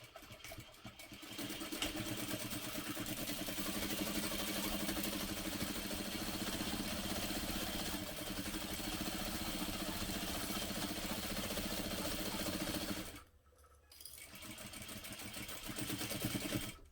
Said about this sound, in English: we'll sew that together using a 1/2 inch seam allowance